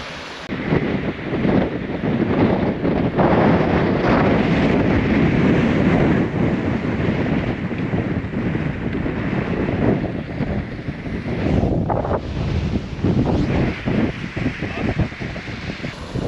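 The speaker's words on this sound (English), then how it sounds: "There's the Three Sisters waterfall, although it looks like a fourth sibling has joined them today." Three Sisters waterfall at Hen Hole pouring in a wild mountain setting, a loud continuous roar of rushing water mixed with wind buffeting the microphone throughout.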